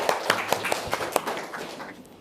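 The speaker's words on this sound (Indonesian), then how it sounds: "Oke, tepuk tangan dulu dong." Classroom of students clapping hands, a scattered burst of sharp claps at uneven rhythm, fairly close, fading out after about a second and a half.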